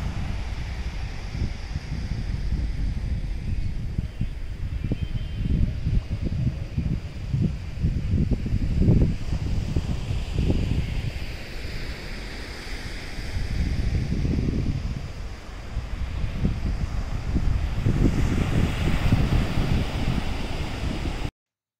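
Wind and surf at Kudle Beach, Gokarna, a rocky shore lined with coconut palms, with steady gusting air and soft waves washing in and out at a distance.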